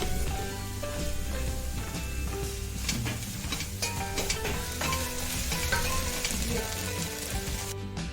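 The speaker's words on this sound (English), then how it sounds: "Let's add some salt so that the onions get fried soon." Five onions frying with salt in a pan for Malabar chicken biryani, a dense, loud crackling sizzle with frequent spatters and stirring scrapes, steady throughout and close, with no talking.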